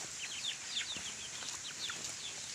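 A small rooster and chickens chirp and cluck faintly in quick, scattered high calls over a steady hiss of background noise, with no talking.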